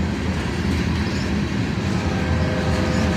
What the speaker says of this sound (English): we've been seeing this hopper train a lot in the last month or so